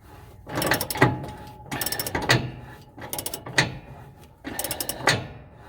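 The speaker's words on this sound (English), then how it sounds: "So I'm using a 1/2 inch socket drive set here." A 1/2 inch socket drive ratchets on a shock absorber bolt on a 2004 Itasca Suncruiser 38G motorhome, four close bursts of rapid clicking, each ending in a heavier clunk, with no talk.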